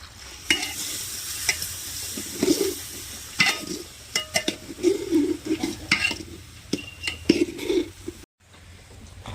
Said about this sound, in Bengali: চাল কলাইটাও ভালো করে কষিয়ে নেব একটু জল দিয়ে দিচ্ছি